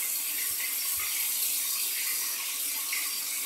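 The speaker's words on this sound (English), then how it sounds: "I'm giving it a good downward shake to get all that water out of there" Water shaken from a RazoRock chrome shaving brush: a continuous hissy splash and patter of droplets, with a couple of soft low knocks near the start, close up and without speech.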